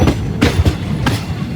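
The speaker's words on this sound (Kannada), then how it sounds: "ಈ ಒಂದು ಟ್ರೈನಲ್ಲೇ ಜನರಲ್ ಆದ್ರೆ ಹೋಗ್ತಾ ಇದ್ದೀನಿ" A long-distance Indian train heard from inside a crowded general coach: a loud, steady low rumble broken by rhythmic clickety-clack wheel beats over the rail joints.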